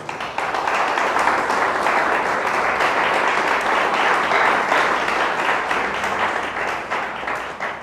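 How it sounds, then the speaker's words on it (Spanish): A church congregation gives loud, sustained applause during a sermon. Many hands clap densely together for several seconds before the sound tapers off at the end. "Dele fuerte el aplauso a Dios."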